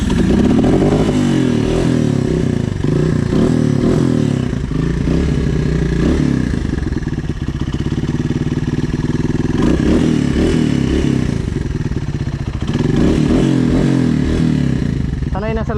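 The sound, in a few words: off-road motorcycle engine revving on rough trail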